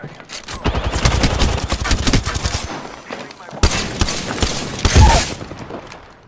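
Rapid automatic gunfire in Apex Legends, loud close bursts of shots with short pauses between volleys, along with mechanical clicks and thuds.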